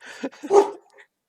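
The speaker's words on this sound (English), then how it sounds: "Both the dogs are being rowdy, I see." A quick pair of sharp dog barks sounds close by, followed by a faint yip, with no talking.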